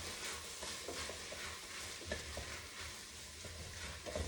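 Chopped vegetables, including jalapeno, sizzle steadily in a pot as the base for black bean soup, with a constant frying hiss and scattered soft scraping from stirring throughout, close and without speech.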